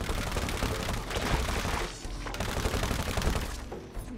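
Gunshots in the video game It Takes Two, a steady dense rattle of rapid fire running nearly continuously and fairly loud, with no talk over it.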